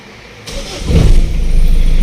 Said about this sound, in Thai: ฟังเสียงเครื่องยนต์กันหน่อยนะครับ